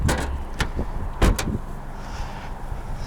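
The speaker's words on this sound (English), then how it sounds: "Somebody closed my door." A Toyota Yaris iA door shuts with a sharp, close thump, following a few lighter clicks and handling knocks from the car's body and latch.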